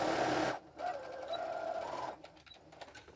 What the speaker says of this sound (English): I'm going to clip these together so that I can sew all the way down the neck hole and then down the front.